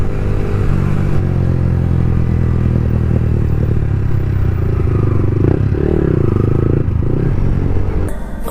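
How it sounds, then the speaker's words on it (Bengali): A Kawasaki Z900 superbike rides past with a loud, sustained engine roar and road rumble, heard close from another motorcycle with some clatter and wind noise. "সামনে গাইস গুগল বাবার সুপার বাইক Z900।"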